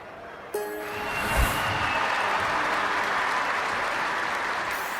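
A spectator crowd applauds after a dive in the London 2012 Olympic video game: a sudden start with a brief tonal chime, then dense, steady clapping that carries on evenly.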